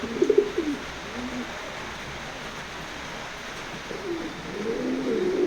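Young racing pigeons coo in a loft, a few low burbling calls at the start and again near the end over a quiet, hissy background, with no talking.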